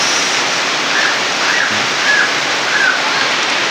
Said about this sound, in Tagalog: Maraming lakas ng ulan, guys.